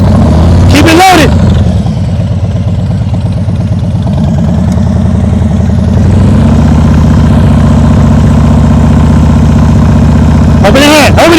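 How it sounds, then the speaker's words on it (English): A motorcycle engine idles and chugs at low revs during slow-speed riding practice, its steady mid-low drone sagging and recovering, with a brief sharp burst at the start and end. "You hear how his engine goes down?"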